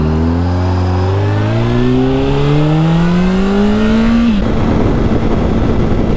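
A 2007 Honda CBR 600RR sport bike, rebuilt after a wreck, fires up and revs, its engine note climbing steadily in pitch over about four seconds before settling into a loud, close, steady idle.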